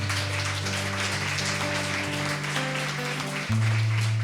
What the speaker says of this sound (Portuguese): Obrigado, essas palmas foram para o ministério, agora para o Senhor